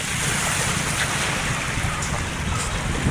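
Steady rush of sea waves with wind noise buffeting the microphone, a continuous broadband wash with no talking.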